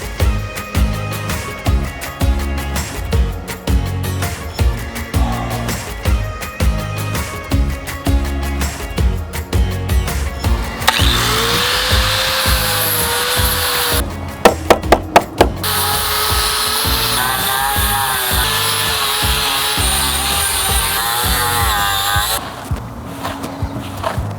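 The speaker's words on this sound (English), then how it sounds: "So let's get the flap wheel and sand this off and see what we got." A flap wheel on a grinder sands a Jeep body panel, first in a rapid run of short rough bursts, then as a loud continuous high whine with a brief rattling break before it winds down.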